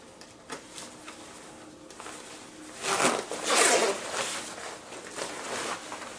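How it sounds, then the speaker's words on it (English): A zipper being pulled closed on a new Motoraive motorcycle riding suit, with a rising rasping zip in the middle and lighter fabric rustles before and after, close and clear with no talking. "Get her zipped up here."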